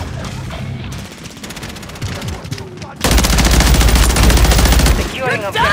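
Rapid automatic gunfire rattles through an online match of Call of Duty Modern Warfare 3, bursts first moderate then sharply louder and sustained before cutting off, with game voice callouts mixed in.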